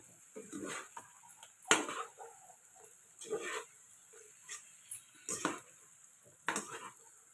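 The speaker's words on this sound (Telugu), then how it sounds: "టమాటా వేసి అంతా మిక్స్ చేసుకుందాము" Tomatoes are stirred into chicken biryani masala in a pan, with a spoon scraping and knocking against the metal in uneven bursts over a faint sizzle, close and fairly quiet.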